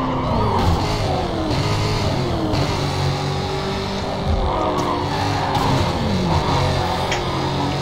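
Dodge car racing in Need for Speed Carbon, its engine revving hard and sweeping up and down through the gears with bursts of tire skidding, loud and continuous.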